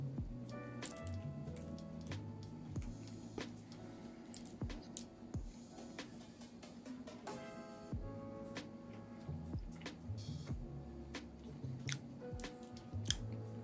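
Close, quiet chewing of a cinnamon Pop-Tarts Pretzel pastry with icing and salt, soft irregular crunches and mouth clicks spread over several seconds against a low steady hum.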